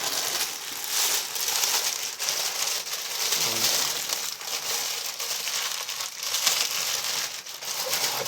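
A package torn open by hand without scissors, a run of dry crinkling and ripping bursts that are close and fairly steady, with no talk over them.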